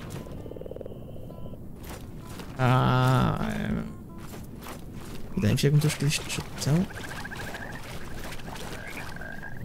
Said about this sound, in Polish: Nie patrzcie, jakaś wielka żaba.